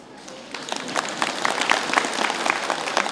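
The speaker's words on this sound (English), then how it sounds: "If they say good, then clap for them." An audience at a Buddhist lecture breaks into clapping that builds from sparse claps into a fuller, steady round of applause, moderately close.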